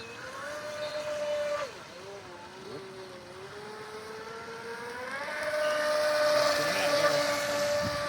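A 25-inch stepped hull RC boat runs on the water, its small electric motor whining at a varying pitch that dips, then climbs as it speeds up, heard from a moderate distance over faint outdoor noise.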